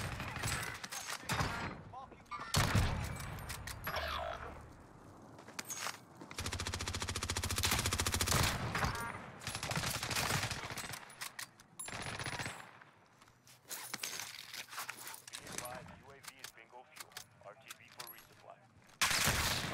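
Rifle shots and bursts of gunfire from Call of Duty Warzone on Rebirth Island, the KAR98 bolt-action among them, crack repeatedly through dense in-game combat noise, with a voice talking over parts of it.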